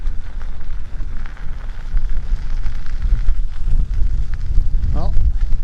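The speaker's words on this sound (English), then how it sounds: "feels like I'm heading up against the wind, so I'm stopping the camera right now" Wind buffeting the microphone of a bicycle rider, a loud, constant low rumble.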